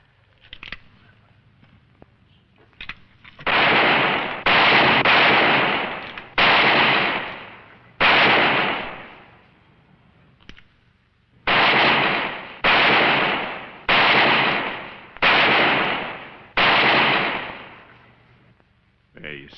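Revolver gunshots aimed at tin cans in an old Western, about ten loud, booming reports with long decaying echoes, spaced roughly a second or two apart in two groups, with no talk in between.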